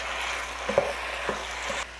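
Sugar, fish sauce, soy sauce and sriracha being stirred together in a wok, with a low steady sizzle and a few soft clicks of a utensil against the pan, no voices.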